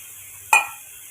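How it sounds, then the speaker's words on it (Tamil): A spoon strikes a pan once, a short, bright metallic clink, while egg masala with a little added water is stirred. The clink fades quickly over a quiet background. "கலந்து விட்டு ஒரு ரெண்டு நிமிஷம் மூடி போட்டு வதக்கி"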